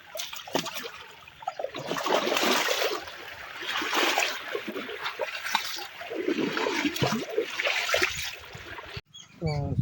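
Heavy floodwater rushes and splashes after a long night of strong rain and wind, a loud continuous watery roar filling the scene with steady surges throughout.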